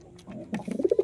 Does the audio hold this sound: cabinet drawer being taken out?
no